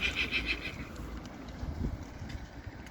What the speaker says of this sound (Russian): Вот здесь вот такие лошади.